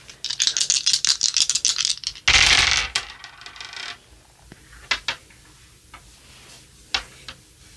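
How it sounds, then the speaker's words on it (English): Astrology dice shaken in a cup or hands, a quick run of bright clattering rattles followed by a louder tumbling roll, then a few scattered clicks as they settle, close and with no voices. "we're going to shake some astro dice."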